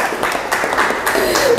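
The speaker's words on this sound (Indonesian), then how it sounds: "Tepuk tangan buat Genesa." A classroom of children claps for a student in a short burst of brisk, fairly loud applause lasting under two seconds.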